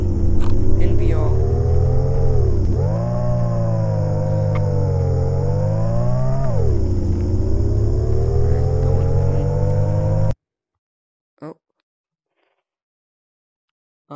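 Car engine in the VR game Thief Simulator, driving with a loud steady low drone that rises and dips as it accelerates, running for about ten seconds before cutting off to near silence with a brief sound.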